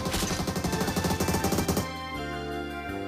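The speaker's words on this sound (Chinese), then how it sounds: "怎么光听见枪声看不见人呢" Gunfire in a battle-royale style shooting video game: a rapid, evenly spaced burst of shots for nearly two seconds, followed by quieter game tones with no talk.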